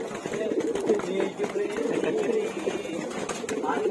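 A racing pigeon coos softly in low, repeated murmurs near a loft, with faint wing movement and people talking nearby.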